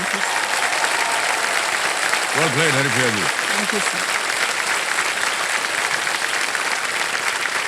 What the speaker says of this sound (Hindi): तालियां बज जाए इनके लिए एक बार फिर जोर से